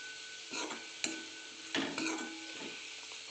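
Guar bean curry being stirred with crushed peanuts in a pan, soft scraping strokes of a spoon at an uneven pace over a faint background hiss, fairly quiet and close.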